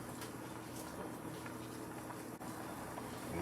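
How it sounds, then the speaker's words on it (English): A pot of pigeon peas in coconut milk bubbles and simmers steadily with a constant low gurgling boil, close and continuous, with no talking. "This is my gungo peas or pigeon peas in the coconut milk boiling."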